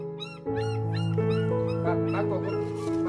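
Three hungry, cold puppies cry close by, with a continuous run of high, wavering whimpers and squeals overlapping one another for the whole stretch.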